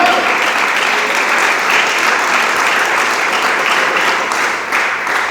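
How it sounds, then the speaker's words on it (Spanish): A church congregation applauds steadily throughout, dense sustained clapping at a fairly loud, even level with no pauses, after a pastor's sermon on the Lamb of God. "Dele palmas al Señor"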